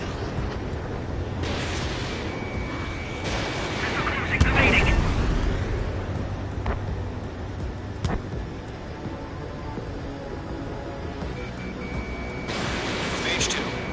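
Missile launches and bursts of gunfire in a combat video game, with booming blasts and scattered sharp shots over a steady rumbling battle bed, while radio-style voices call out over the action.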